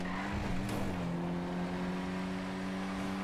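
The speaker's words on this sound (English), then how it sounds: "This car drifts a lot when you hit a corner." Video game car drifting around a corner: a steady, loud engine drone with rising harmonics and a brief tire screech near the start, continuous and alone with no talk.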